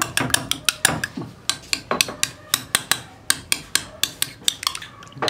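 Salted egg being mixed in a bowl, a utensil clinking against the bowl in a steady, rapid rhythm of sharp taps, close and fairly loud with no talking.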